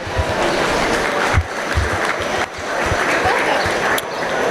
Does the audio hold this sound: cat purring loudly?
no